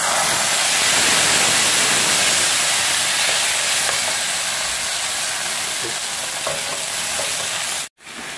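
An electric mixer grinder grinds a masala of onion, ginger, garlic and green chili for a curd fish curry, a loud continuous close whir that cuts out abruptly near the end, then restarts.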